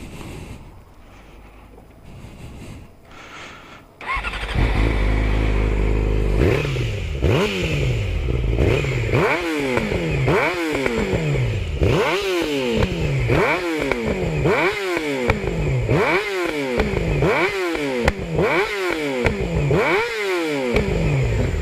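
A Yamaha R6 sport motorcycle with a titanium exhaust and remap starts and revs repeatedly, rising and falling in sharp, loud bursts with crackly exhaust pops, close to the microphone.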